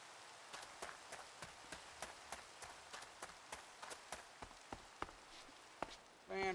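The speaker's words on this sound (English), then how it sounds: "Ah, rain." Rain falls in the Minecraft video game, heard as quiet, evenly spaced soft drop taps over a near-silent background, with a brief louder sound at the end.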